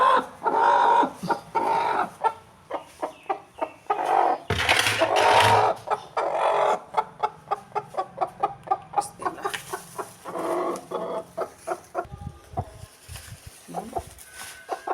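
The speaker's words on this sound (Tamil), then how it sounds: "இந்த கோழியை எடுத்து நான் முட்டையில் உட்கார வச்சிடறேன்" A hen being set on eggs to brood clucks close by in a steady string of short, rhythmic clucks, with a few louder, drawn-out squawks breaking the pattern midway.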